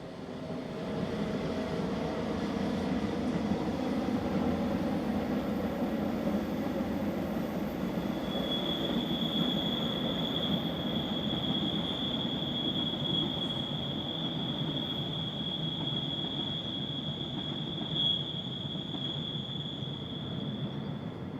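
An Austrian Class 1144 locomotive hauls the Vienna–Ljubljana EC151 over the Semmering Pass, a continuous rumbling roll of wheels on rail with a thin high squeal entering partway through, steady and fairly distant.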